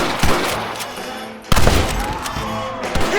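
Video game gunfire in a Red Dead Redemption shootout, loud volleys of rapid shots and heavy bursts, with a big burst midway and scattered sharp cracks after.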